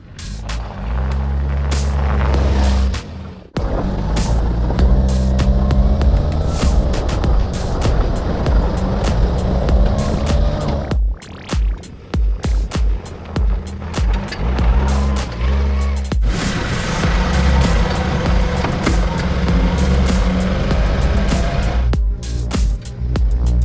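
A Dakar-style extreme off-road racing buggy tearing around a closed course in Thailand: a loud, close engine roars almost without pause, revving up and down through gear changes with a few brief dips before surging again.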